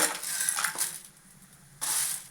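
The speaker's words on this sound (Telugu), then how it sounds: "ఇప్పుడు పప్పులు వేసుకుంటాను" Dry lentils tip into a hot pan with dried red chillies for mint chutney, giving two short bursts of rattling, crackly sizzle separated by a quieter moment.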